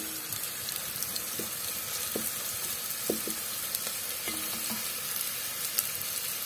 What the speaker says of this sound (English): Now it's time to put the onions and the garlic into the pot here.